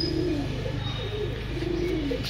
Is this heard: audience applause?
no